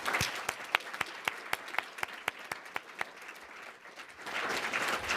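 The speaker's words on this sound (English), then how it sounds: "let's give them a final round of applause and thanks." An audience claps, with sharp individual claps standing out at first, then thinning and blending into a softer spread of applause.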